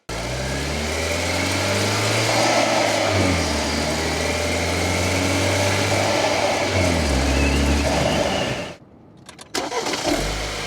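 A BMW engine fitted with an aftermarket Velocitech intake drones loudly and steadily under acceleration, its pitch climbing and dropping through gear shifts before cutting out abruptly, followed by a few brief knocks.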